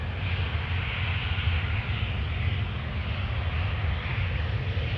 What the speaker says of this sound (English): This Airbus A320 is 13 years old already.